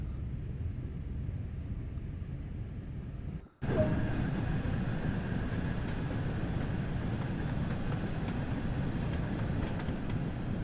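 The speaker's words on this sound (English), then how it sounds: "This train is powered by an LMS Jubilee class steam locomotive" An LMS Jubilee class steam locomotive hauls a train in Train Sim World, a steady rolling rumble with faint tonal whines, briefly cut to near silence before resuming at the same loud, continuous level.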